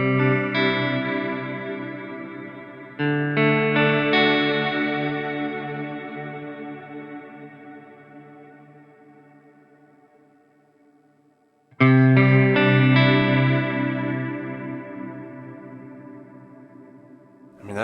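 Sustained guitar chords through a POD Go delay feeding a reverb swell and slowly decay with a warbling delay and lush reverb, re-struck twice, creating a wide, shimmering ambient wash with no voices.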